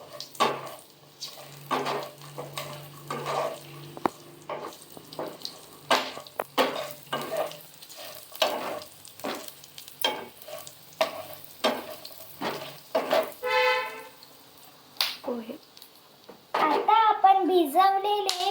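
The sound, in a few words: stirring food frying in a pan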